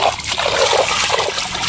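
Fish catch being rinsed of dirt in river water, heard as close splashing and trickling water sloshing steadily for a moment with no voices.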